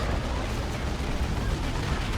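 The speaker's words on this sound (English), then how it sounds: "D-cannon on the way for Kung Fu Panda." An Ork D-cannon fires in the Dawn of War 2 strategy game, a dense, continuous booming roar of heavy artillery blasts that stays loud throughout the short stretch.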